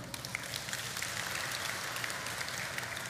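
Steady applause from a church congregation during a Filipino sermon, a dense wash of many hands clapping at even loudness throughout.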